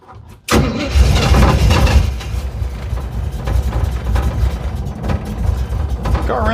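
A 1969 Chevelle cranks and catches after a short silence, then runs rough and loud nearby. The engine falters unevenly, and a voice rises briefly near the end.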